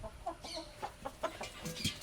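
Chickens clucking on a home farm, a run of short repeated calls spread across a couple of seconds, moderately close and fairly quiet with a little faint background noise.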